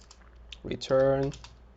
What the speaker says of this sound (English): we have to type a semicolon here